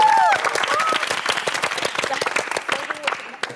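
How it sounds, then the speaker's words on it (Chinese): Studio audience applause welcoming the TV station director to present an offer on a televised job-interview show, loud and sustained from the start, easing off slightly toward the end, with voices mixed into the clapping. "掌声"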